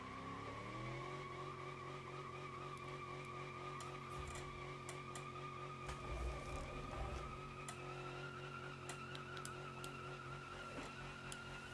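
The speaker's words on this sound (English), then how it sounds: "There we go, the wheel spin." A car doing a wheel-spin burnout in the driving game BeamNG.drive, engine holding a high steady drone while the tires squeal and skid continuously, with occasional sharp clicks on top.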